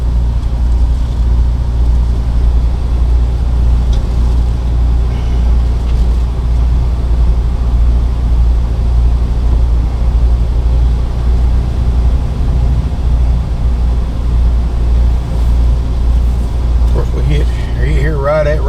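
A 2014 Fleetwood Jamboree Searcher 25K Class C motorhome with a V10 engine drives along, its low engine drone and road rumble continuous and steady inside the cabin, with someone talking over it.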